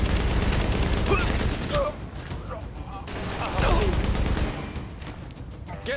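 Gunfire in The Division video game, a dense, continuous barrage of automatic weapon shots and bursts with loud in-game voices shouting over the combat.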